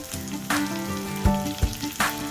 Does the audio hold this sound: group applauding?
no